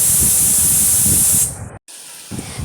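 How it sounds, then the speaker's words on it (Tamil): A pressure cooker holding figs blasts a loud, steady steam hiss for about a second and a half, then cuts out abruptly, leaving near silence before a softer hiss returns. "இப்போ குக்கரில் ஒரு மூணு விசில் வரையும் இந்த அத்திக்காயை விட்டுக்கிறேன்"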